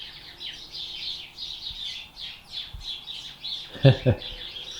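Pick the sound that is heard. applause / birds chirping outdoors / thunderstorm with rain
birds chirping outdoors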